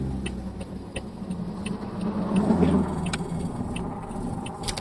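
A manual car pulls away during a driving lesson, a low, moderate engine hum rising slightly as it moves off, with small clicks and interior noises over it and no voices.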